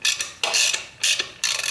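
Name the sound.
ratchet removing Torx star hex bolts from Harley 48 fender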